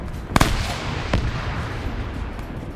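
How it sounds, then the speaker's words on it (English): Grenades go off during a large 220-player PvP battle in a military shooter game: two sharp blasts land close together near the start and a softer one follows about a second later, over a steady rumble of distant combat. "Random grenades going out."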